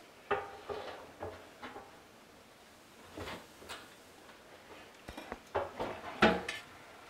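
A beef brisket on a metal H brace being hung inside a Barrel House Cooker drum smoker, heard as a series of faint metallic clinks, scrapes and knocks scattered irregularly through the moment.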